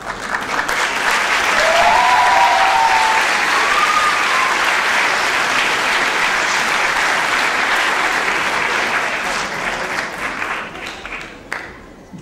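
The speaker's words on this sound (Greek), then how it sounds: "Δικό σας το θερμό χειροκρότημα" Warm audience applause after a university student theatre group's performance on Theatre Day in Mytilene, a dense crowd clapping steadily for several seconds with a few brief cheers, then fading out toward the end.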